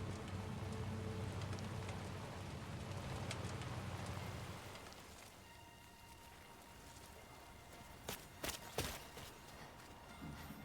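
Timefall rain in the video game Death Stranding 2 falls as a steady, moderately loud patter on surfaces for several seconds, then thins to a quieter ambient wash broken by a few sharp, brief knocks near the end.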